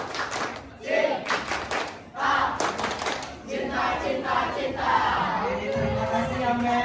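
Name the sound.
group rhythmic clapping cheer, tepuk cinta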